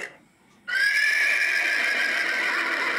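A horse gives one loud, sustained whinny close by, starting abruptly after a brief quiet moment and holding a high, wavering tone for over two seconds.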